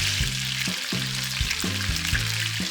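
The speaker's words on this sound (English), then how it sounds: "add the dried off meat and cook until it begins to brown on all" Pork pieces browning in hot oil in a frying pan for a Goan-style vindaloo, with a loud, continuous sizzle and a few low knocks as the meat is moved.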